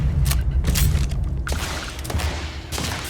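Shotgun blasts from the Starfield video game boom in heavy, rapid bursts, loud and close, with mechanical clanks between shots and no talking.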